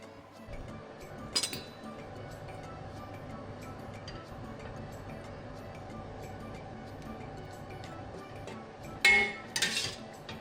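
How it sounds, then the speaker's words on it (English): A metal lid clinks onto a pot of soup water being brought to a boil near the end, with a brief rattle, after a faint earlier clink over a low background hum. "I'm just going to put the lid on."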